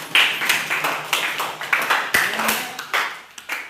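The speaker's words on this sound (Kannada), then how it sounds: "ವೆರಿ ಗುಡ್ ಚಪ್ಪಾಳೆ" Students clapping together in a classroom: a quick, steady round of hand claps in a regular rhythm, fairly close and bright, lasting a few seconds.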